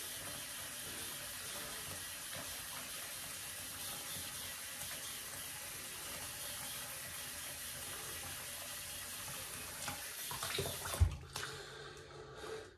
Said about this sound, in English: I'm gonna rinse off my hands.